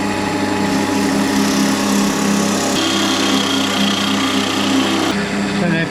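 A chisel cuts into an olive log spinning on a wood lathe: a loud, continuous motor whine with a harsh buzzing scrape from the tool, shifting in tone partway through as the cut changes.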